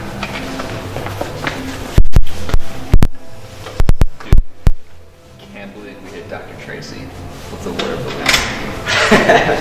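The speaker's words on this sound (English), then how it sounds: "And close the door behind you." An office door shuts with a few loud sharp knocks and bangs close by, followed by quieter room noise and people talking.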